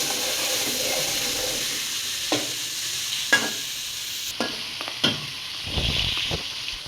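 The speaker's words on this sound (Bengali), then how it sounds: "তেল গরম হলে দিয়ে দিচ্ছে পেঁয়াজ কুচি তারপর দিয়ে দিচ্ছে হলুদ দিয়ে মেখে রাখা মাছ" Turmeric-marinated fish and chopped onion fry in hot oil in a cooking pot with a steady bright sizzle, punctuated by several sharp stirring scrapes and clanks, and a louder burst of frying near the end.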